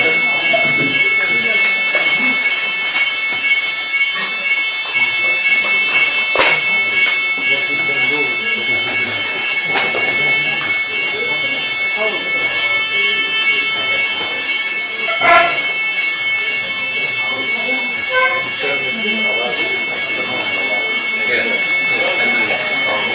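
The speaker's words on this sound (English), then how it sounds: "Zašto si upalio alarm?" An alarm going off during a break in an indoor seminar, a steady, loud electronic tone with stacked harmonics sounding continuously throughout, with voices murmuring underneath.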